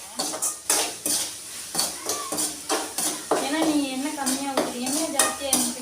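Tomatoes stirred in a pan for chicken curry, a spoon scraping and clinking against the metal in quick irregular strokes, close and fairly loud, with a low voice talking over part of it.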